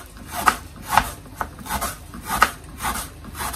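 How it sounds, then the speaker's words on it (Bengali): Knife finely chopping washed onions on a board, a few sharp taps spaced irregularly at close range with soft rubbing scrapes between, fairly quiet with no voices. "এখন আমি পেঁয়াজ গুলোকে কেটে নেব"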